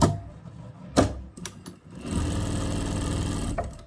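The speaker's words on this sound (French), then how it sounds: "On va coudre tout le long." A few sharp knocks and clicks lead into a sewing machine's steady motor hum as it stitches along a fabric bow tie, running close and even to the end.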